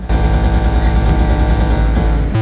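Harsh, noisy Pocket Operator synthesizer effect with a rapid stuttering rattle like machine-gun fire, loud and continuous, ending in a short tonal blip.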